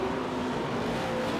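Speedway motorcycles roaring as a race gets under way, a dense continuous engine drone with a rising whine, loud and steady throughout, with no voices.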